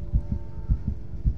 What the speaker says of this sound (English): your heart pounding against your chest